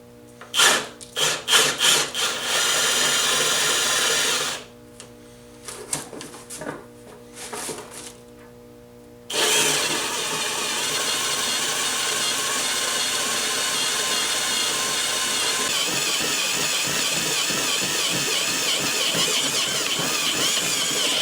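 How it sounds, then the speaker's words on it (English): Drill bit, oiled, bores a hole through a 1JZ engine's valve cover: bursts of grinding whine, a quieter pause with short taps, then a long steady loud drilling run. "So I've got the drill bit, I've got it oiled up, and time to go ahead and try and drill it out."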